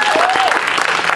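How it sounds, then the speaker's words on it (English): Audience applause at a gathering, dense continuous clapping from a crowd, loud and close, with a faint voice briefly audible underneath. "If we can just give an applause for him,"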